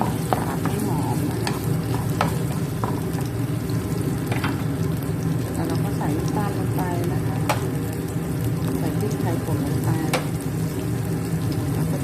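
Steady loud sizzling of large chili pieces stir-frying in a pan, with repeated scraping and stirring clicks throughout; no talking.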